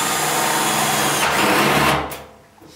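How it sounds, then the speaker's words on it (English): A power drill whirs steadily at close range, then winds down and stops near the end. "Switch down to low speed on this drill."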